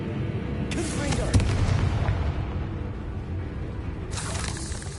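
A Confringo blast spell goes off in the Hogwarts Legacy video game, a sharp booming burst near the start followed by rumbling combat noise, with a second bright crackling burst near the end.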